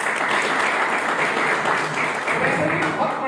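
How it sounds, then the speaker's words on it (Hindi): A training-session crowd breaks into loud, vigorous applause, a thick continuous wash of many clapping hands at a steady level from start to finish. "जोरदार ताली बजा दो"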